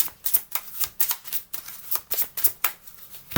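Oracle cards are shuffled in a rapid, rhythmic series of papery riffles and slaps, close and clear, each burst following the last at a brisk, even pace.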